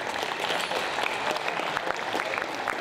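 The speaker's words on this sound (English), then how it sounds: "Round of applause," An audience claps in a round of applause at a music technology festival talk, a continuous, moderately loud patter of many hands with no pause.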